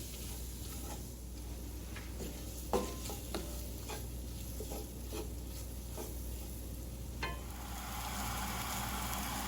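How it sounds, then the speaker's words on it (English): Ribs and flour are stirred in a cast iron skillet: quiet, continuous sizzling under scattered sharp scrapes and taps of the utensil against the iron. "You want to keep stirring this also. You don't want that flour to burn."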